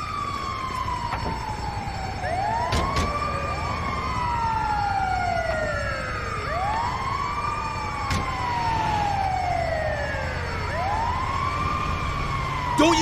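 An ambulance siren in Grand Theft Auto 5 wails continuously, its rising and falling tones overlapping and repeating, loud and close, with a few sharp knocks along the way.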